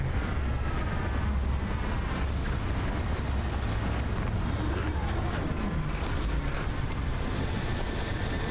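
A spaceship comes in to land in the game Starfield, a steady broadband engine roar with rushing, wind-like noise that holds at an even loudness throughout, with no voices over it.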